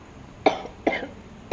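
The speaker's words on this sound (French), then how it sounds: "je tousse" Two short, sharp coughs from one person, close and clear, spaced about half a second apart with quiet room tone in between.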